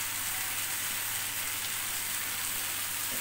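Chopped onion, green chilies, cumin and coriander powder sizzle steadily in a hot pan, a close, even frying hiss with a low hum beneath it and no talking.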